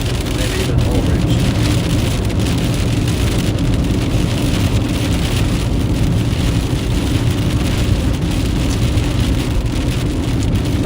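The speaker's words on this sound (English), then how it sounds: "enjoying the nice fall rain." Fall rain drums steadily on a car driving along a storm chase near the Nebraska–Kansas border, a dense continuous patter with road rumble throughout.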